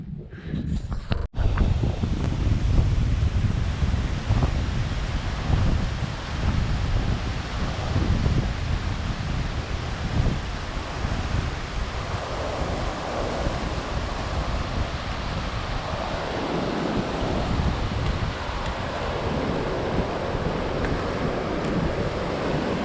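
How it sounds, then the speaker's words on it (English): A glacial river flowing from the Khumbu Glacier near Lobuche rushes in a loud, continuous roar of water, mixed with gusty wind buffeting the microphone, with no one speaking. "just crossing over the river. I think it's the one coming out of the Khumbu Glacier."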